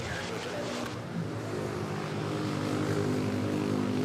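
An airliner rolls along the runway at Manila Airport, a steady, fairly faint engine roar with a mild rise in intensity, heard from a distance.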